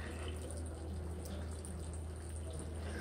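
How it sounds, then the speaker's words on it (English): Water pours steadily out of the intake of a hydrolocked Volkswagen B5 TDI diesel engine, a continuous close splashing trickle with a low hum beneath it. "That's over a liter of water easily so far."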